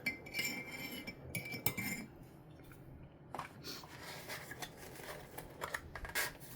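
Melted candle wax stirred in a container at home, giving close, irregular scraping and clinking of a utensil against the vessel with soft wet squishes, steady over several seconds with no talking.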